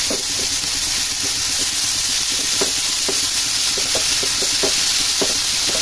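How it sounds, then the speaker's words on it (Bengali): Crushed carrot frying in a pan for sabu payesh, a loud continuous sizzle with a hissing wash underneath and light rhythmic stirring taps throughout. "গাজর রেখেছিলাম ক্রাশ করে তুলে, এটাকে আমি ভাজতে দেবো"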